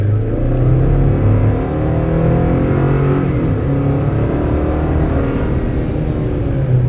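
A 2023 Chevy Colorado Trail Boss truck accelerates across soft beach sand on Padre Island, its mid-range engine droning loud and steady for several seconds with a smooth rising pitch and no talking.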